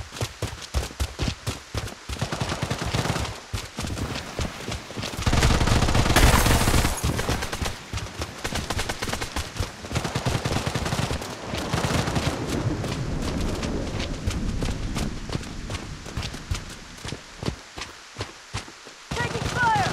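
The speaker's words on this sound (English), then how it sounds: "Taking fire." Gunfire rattles through a Bloodstrike multiplayer match in rapid bursts and single shots, with a heavier sustained blast near the middle and dense firing continuing to the end.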